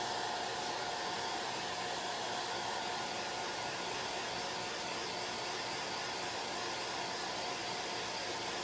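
A hair dryer drying chalk paint on a Halloween witch design runs as a steady, even whoosh of blowing air, close and unbroken throughout with no talking.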